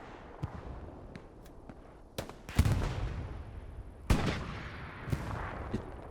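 Tank cannon fire from a T-34 during a World War II tank battle on a Kursk map, several booming shots and impacts at irregular intervals over a steady low battlefield rumble, with two heavier blasts standing out.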